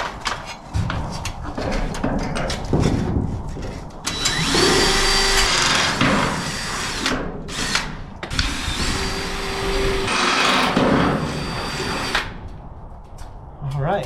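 Power drill boring holes through a box in a home shop, a loud sustained whine running for several seconds at a time with short breaks, with a person and someone talking in the background.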